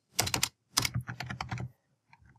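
Typing on a computer keyboard while entering text for an After Effects title: quick clusters of crisp close keystrokes in two short bursts, then a few faint taps after a pause.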